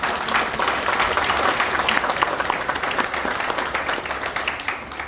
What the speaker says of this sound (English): I just want to give another big round of applause for that